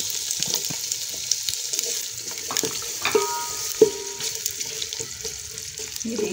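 Chopped onions drop into hot oil in a pot for aloo keema and fry with a bright, steady sizzle, broken by a few utensil clinks and stirring scrapes, with no talking.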